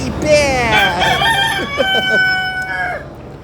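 A rooster crows loudly with a long, wavering call at the Erie County Fair, accompanied by clucking chickens nearby.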